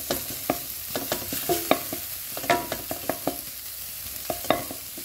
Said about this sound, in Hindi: थोड़ा गरम मसाला पाउडर। एक मिनट तक भूनेंगे इसको